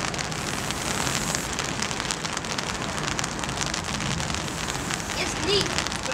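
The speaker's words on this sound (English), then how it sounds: "it's starting to rain" Rain patters steadily on surfaces outdoors at a graffiti site, a dense, even hiss of drops heard close.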